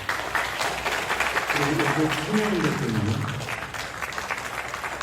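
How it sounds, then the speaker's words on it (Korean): Audience at a neighborhood redevelopment briefing claps for several seconds, a steady hall-wide patter while someone speaks over it. "박수 한번."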